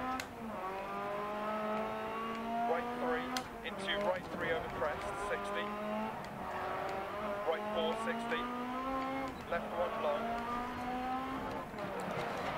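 A Lancia Delta Integrale rally car in Dirt Rally, its engine droning and revving through gear changes with bursts of gravel and tire noise, while someone talks over it throughout.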